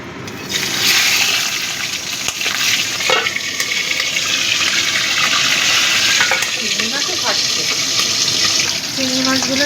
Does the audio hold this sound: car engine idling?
no